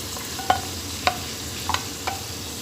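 Whisked yogurt being stirred into kachnar keema in a pan over low heat, with a spoon clinking against the pan four times at even intervals over a soft steady sizzle.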